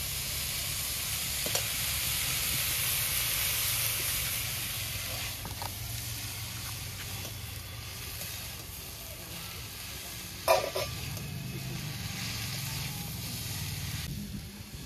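Broccoli with spices and fried shrimp sizzling in a pan, a steady hissing fry throughout with a few spoon scrapes and one sharper clank partway through.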